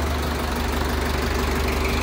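A Sonalika or Swaraj 855 tractor engine idles close by, an even low throbbing rumble with a light knock, steady and loud throughout.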